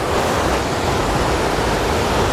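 Loud, steady roar of ocean surf washing close by on a beach in Los Cabos, Mexico, a continuous rushing wash of breaking waves with no voices.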